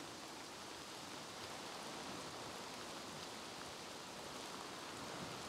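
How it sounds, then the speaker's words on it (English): Rain falls steadily in the video game Dying Light 2, a faint, even, continuous patter with no talking over it. "It's raining."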